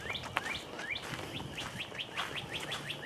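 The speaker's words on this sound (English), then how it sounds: "You hear those birds? That's always so neat, listening to the birds when you're walking." Small birds chirp and tweet repeatedly along a suburban hiking trail, quick rising calls in a steady series, fairly faint and open-air with no talk.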